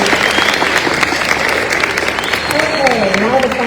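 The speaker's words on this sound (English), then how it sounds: "Let's give a round of applause for" An audience applauds steadily at a county district board candidate forum, a continuous wash of many hands clapping with faint voices mixed in.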